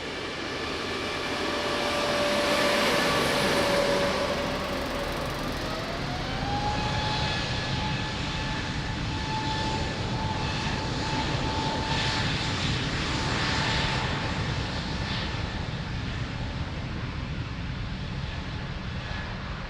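A passenger jet taking off at Lisbon Airport: a loud, sustained engine roar whose whine climbs in pitch early on, then holds steady as the noise slowly fades.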